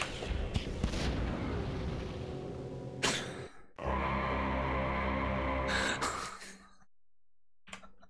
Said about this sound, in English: Uh-oh, flash grenade.